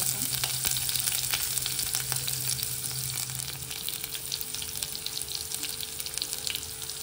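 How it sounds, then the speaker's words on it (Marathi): Chopped onion sizzles in hot oil with whole spices such as bay leaf for chicken biryani, a dense, steady frying hiss with stirring noises and a low hum underneath, close up and without speech. "आता मी कांदा टाकते।"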